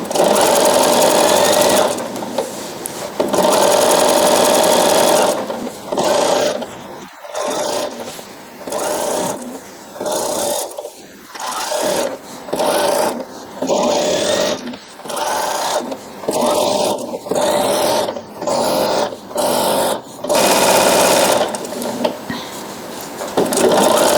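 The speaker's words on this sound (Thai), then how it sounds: "เราก็เย็บยาวจนสุดเลยนะคะ" Domestic sewing machine running a long straight seam through fabric, its steady motor whirr broken into repeated bursts with brief pauses between runs, loud and close with a faint voice underneath at times.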